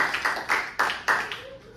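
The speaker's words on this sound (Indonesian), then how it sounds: "kita berikan tepuk tangan buat Tuhan Yesus" A church congregation claps during a worship service, the claps coming in a quick, roughly even rhythm of sharp bursts that grow fainter toward the end.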